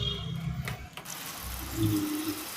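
Water is poured from a small glass into egg keema masala in a dhaba-style kitchen, giving a short close splash and trickle with faint clinks.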